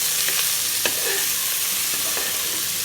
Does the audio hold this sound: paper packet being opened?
no